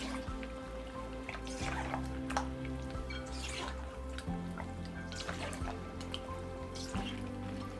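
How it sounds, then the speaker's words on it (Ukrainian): Ayran yogurt drink is poured over meat as a marinade for barbecue skewers. Soft wet dripping and trickling continue throughout at a low, steady level over a faint background hum. "Основний інгредієнт маринаду це айран. Додаю його до м'яса."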